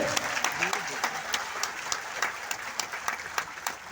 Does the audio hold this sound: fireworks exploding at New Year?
no